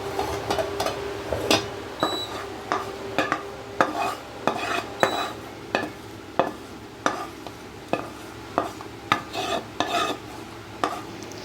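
A spoon scrapes cooked mango chutney out of a pan, with many quick, rhythmic metallic scrapes and knocks, close and clear, under a light background hiss.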